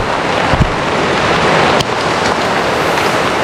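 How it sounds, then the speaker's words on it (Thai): Rain falls steadily in a forest clearing, a dense, unbroken hiss of drops with a few soft thumps and no voices. "รอฝน ฝนตก"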